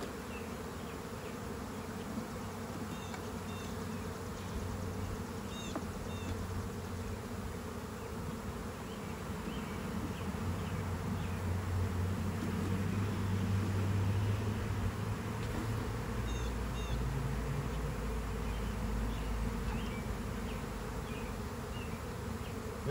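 A swarm of honeybees clustered beneath a hive's bottom board drones in a continuous, dense buzz. Individual bees whine in and out close by, and the hum swells a little midway.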